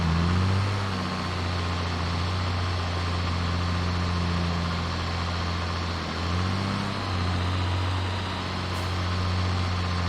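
A tractor with a mower attachment in Farming Simulator 22 runs with a steady, low engine drone and a brief dip in pitch midway before it settles back to an even hum.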